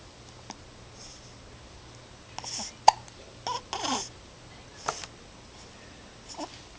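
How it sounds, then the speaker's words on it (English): A newborn baby hiccups several times at uneven intervals, close and soft, each one a short sharp catch with faint breathy sounds between. "Hiccups."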